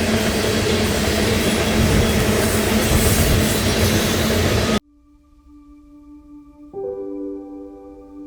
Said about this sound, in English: Every single car on this train right now is an Alberta oil car going down to Chicago